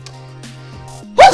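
A single sneeze bursts out loud and close near the end, breaking a quiet indoor stretch of low hum and faint background tones.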